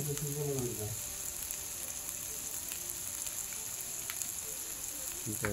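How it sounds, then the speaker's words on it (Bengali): Chopped onions frying with meat in a pan give a dense, even sizzle that runs throughout, close and steady, with a brief voice-like tone near the start and end. "একটু নাড়ানাড়ি করে নেব, একটু ভালো মতো ভেজে নেব মাংসের সাথে"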